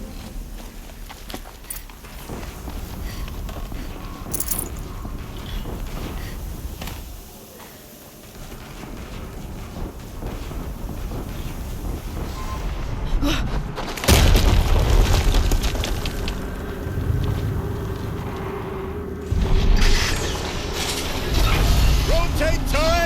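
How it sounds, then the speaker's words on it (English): Explosions go off in the video game Horizon Zero Dawn Remastered, heavy booms and rumbling blasts that surge loudest around the middle and end, over a busy game soundscape with voices talking. "Another explosion."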